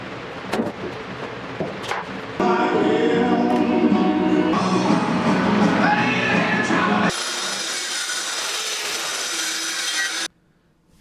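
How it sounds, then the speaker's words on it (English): A Porter Cable restorer power tool scrubs along the live edge of a wooden slab for a river table, a loud continuous abrasive whir that shifts in pitch and pressure, then cuts off abruptly near the end. "I'm using my restorer from Porter Cable. It cleans up the live edge without sanding it down"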